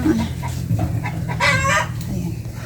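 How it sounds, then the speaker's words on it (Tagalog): An egg-laying hen clucks in short bursts near a kitchen where chicken is cooking, a few close squawking notes over a low background hum, with no talk. "may nangingitlog na manok"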